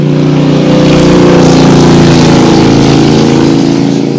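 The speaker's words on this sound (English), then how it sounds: "There went a motorcycle." A motorcycle engine drones loud and close, holding a steady, strong hum throughout, with no voices.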